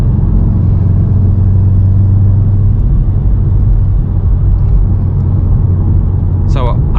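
A VW MK7.5 Golf R engine rumbles steadily on a night drive, a continuous loud low drone with no clear revving peaks, and a brief higher chirp near the end.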